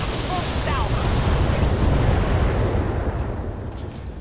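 Mech weapons fire continuously in BattleTech, a dense, loud rumbling barrage of booms and bursts that holds steady throughout with no clear pauses.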